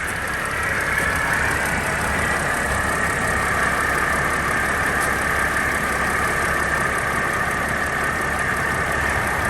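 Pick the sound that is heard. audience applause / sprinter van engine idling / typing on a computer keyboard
sprinter van engine idling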